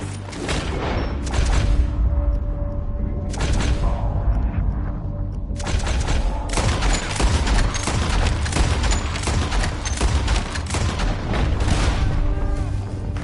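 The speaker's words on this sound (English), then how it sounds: "Hear those bombs!" Bombs exploding and rapid gunfire in Red Dead Redemption 2, a dense, loud barrage of booms and shots rolling continuously with little pause.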